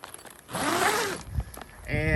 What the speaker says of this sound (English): it has 2 zippered entrances that you can open and shut with zippers